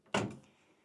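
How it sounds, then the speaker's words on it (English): The door of a Sage 3-in-1 microwave oven shuts with one soft, close thunk that fades quickly into quiet room tone. "then just close the door"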